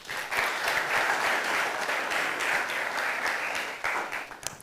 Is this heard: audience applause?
yes